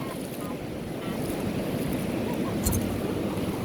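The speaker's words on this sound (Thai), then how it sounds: "ดูครับ คลื่นเลยโคตรเจ๋ว" Sea waves break and wash up on a beach in the evening, a steady close rush of surf with wind buffeting the microphone.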